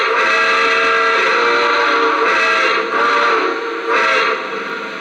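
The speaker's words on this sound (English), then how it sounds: "So that's a fantastic whistle." Steam whistle on a Lionel Legacy NYC Empire State Express model train, a loud, close, sustained chord-like blast that swells and dips in a few pulses without a break.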